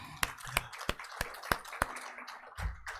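At a press conference for the International Festival of African Fashion, a small audience gives sparse applause: about half a dozen separate, sharp claps spaced out over a few seconds, fairly faint and with no talking.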